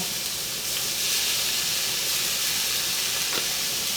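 Sriracha hits a hot pan and sizzles steadily, a loud, close, continuous hiss of frying with no talking.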